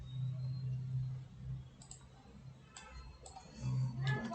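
A few sharp, isolated computer mouse clicks spaced irregularly over a low background hum and faint murmur.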